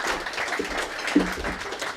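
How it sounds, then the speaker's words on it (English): An audience applauding to welcome a speaker onto the stage at a Pint of Science talk in Armidale, a soft, steady patter of clapping lasting a couple of seconds. "Round of applause for Stuart."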